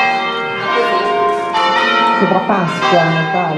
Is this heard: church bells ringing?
yes